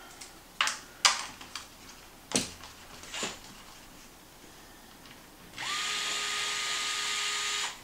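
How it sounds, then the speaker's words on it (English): Power drill backing screws out of the bumper on a Traxxas MAXX RC truck: a few sharp clicks and taps, then a steady close whine of the drill motor running alone for about two seconds. "So I'm going to take these screws all the way out."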